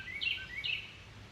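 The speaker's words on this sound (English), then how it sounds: "My loud bird is back" Two loud, chirpy bird calls ring out in quick succession, one near 0.2 s and a second answering call around 0.6 s, against quiet outdoor background noise.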